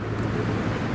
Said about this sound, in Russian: На улице сильный ветер.